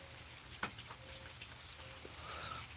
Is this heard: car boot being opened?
no